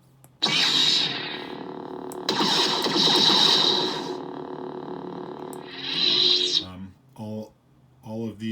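A buzzing electronic lightsaber hum from a replica Obi-Wan lightsaber swells and fades in several long sweeps, loud and close, followed by a few brief bursts of talk.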